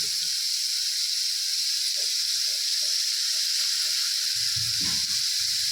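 Spicy chicken cooking in a pan gives a constant loud, close sizzling hiss throughout, with faint clinks and low rumbling handling sounds beneath it.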